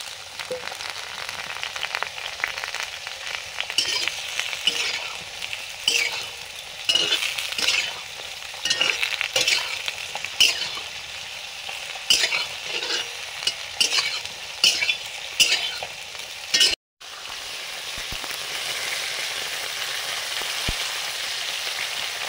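Halved koi fish pieces fry in hot oil, a steady crackling sizzle with frequent sharp spatters and utensil scrapes, cutting out for an instant before the frying resumes evenly.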